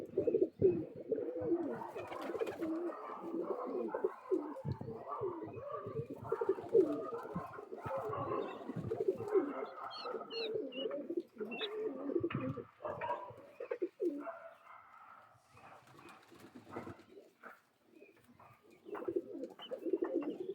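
Madrasi Fulshira pigeons, a pair with chicks, coo softly and repeatedly nearby, their low, throaty calls overlapping in a continuous murmur with occasional rustles.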